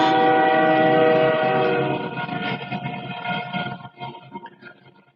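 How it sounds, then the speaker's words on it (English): A train passes close by, its horn sounding a loud, sustained chord for the first couple of seconds before fading into the rolling rumble and clatter of the cars going past. "when the train goes by like it is now, sometimes it actually records in the video"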